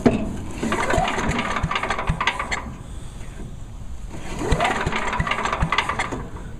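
A Troy-Bilt Chipper Vac small engine being cranked to restart, with repeated sharp pull-start strokes and sputtering that comes in two rough attempts, each fading before it catches.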